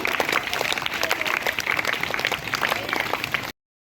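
An audience at a government school event claps in thanks to Suben Pharma and Akshara Foundation: dense, continuous applause for about three and a half seconds, then it cuts off abruptly.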